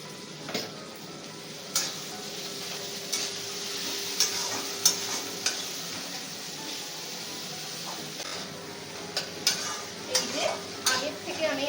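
Tomatoes with salt and turmeric are stirred in a frying pan, producing a soft continuous sizzle broken by repeated scraping taps of a spatula against the pan, close and moderately loud.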